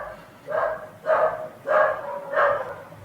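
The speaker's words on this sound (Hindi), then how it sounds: "ये कुत्ते भौंक रहे हैं, थोड़ा मैं वेट कर लेता हूँ बोलने में।" Dogs bark outside, four evenly spaced barks about half a second apart, moderately loud and clear, with no talk over them.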